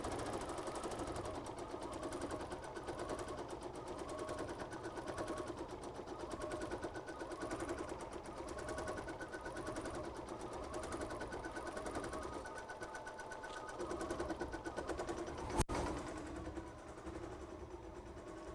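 A sewing machine stitching free motion quilting in long S curves runs steadily and closely with a rhythmic whirring hum throughout. A brief clack comes near the end.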